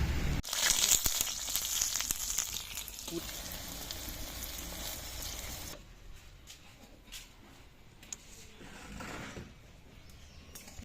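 Lentil fritters (bora) fry in hot oil, giving a loud crackling sizzle for the first half that then drops to a quieter, intermittent popping sizzle with scattered clicks, close by and without talk.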